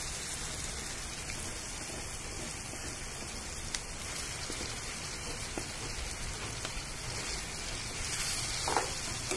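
Mashed brinjal bharit being fried with onions in a kadhai over a wood-fired stove gives a constant, fairly faint hissing sizzle with scattered small pops, no voices.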